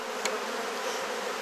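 Honey bees buzz in a dense, steady drone around open frames of a ten-frame hive, close and continuous with no talking.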